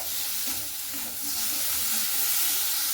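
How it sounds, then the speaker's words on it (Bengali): Kharkol stalks fry in a pan while being stirred, giving a continuous dense sizzle and hiss with scraping stir sounds running throughout at a close, steady level. "এরপরে ঘাটকলগুলোকে খুব ভালো মতো করে এইভাবে মানে নাড়াচাড়া করে নিতে হবে"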